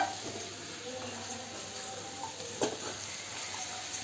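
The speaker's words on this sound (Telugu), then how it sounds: "మష్రూమ్స్ అన్నీ వేసేసుకోవాలి నూనెలో మంచిగా ఉడకాలన్నమాట నూనెలో మంచిగా డీప్ ఫ్రై అయినాక" Mushrooms deep-fry in hot oil with a steady close sizzle and hiss. A few faint stirring clicks from the pan sound through it.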